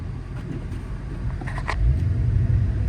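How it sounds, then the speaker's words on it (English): A Dodge Charger's tires spin in deep snow during a winter storm, a low steady rumble that swells louder toward the end, with a few faint higher squeaks partway through. "Spinning tires."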